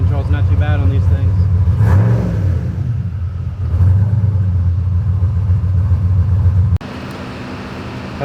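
A Ford Foxbody Mustang V8 running on a Holley Terminator X idles with a steady, loud low rumble close by. Midway there is a brief rise in revs, and a voice talks over the engine.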